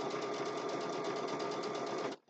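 A sewing machine runs steadily while stitching a Christmas table runner quilt block, a loud, close, fast, even whirring chatter that holds for about two seconds and then stops abruptly.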